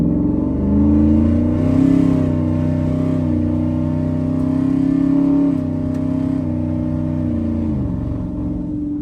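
A twin-turbo Ford F150 with a Coyote V8 makes a wide-open-throttle pull, a loud deep engine roar whose tone climbs steadily for several seconds and then drops as the throttle eases, with no talking.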